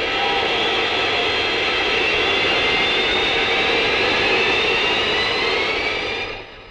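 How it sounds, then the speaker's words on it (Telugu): An airplane passes overhead in an old Telugu film scene, a loud, sustained jet engine roar with a rising whine that holds steady, then fades away sharply near the end. "అయ్యో విమానం వచ్చేసింది"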